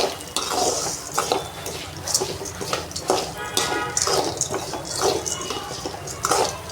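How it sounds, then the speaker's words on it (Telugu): Coriander, cumin and fenugreek seeds are stirred slowly in a pan. A steady run of dry scraping and light clinks repeats throughout, close and fairly even in loudness, with no talking. "ధనియాలు జీలకర్ర మెంతులు అన్నీ ఇలా పోసి మెల్లిగా కలబెట్టాలి"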